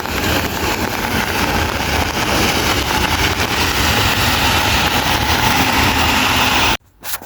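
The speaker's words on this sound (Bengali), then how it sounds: "ইতালিয়ান বাসগুলো দেখেন কেমন হয়" An Italian city bus engine runs on a rainy street, a continuous low rumble with road and rain noise, steady and fairly close until it cuts off abruptly near the end.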